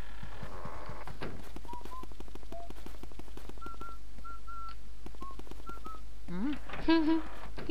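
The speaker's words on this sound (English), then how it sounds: "He keeps whistling." Whistled tune from a character in the video game Luigi's Mansion, a series of short pure notes hopping up and down in pitch, played alongside game sounds and a voice talking over it.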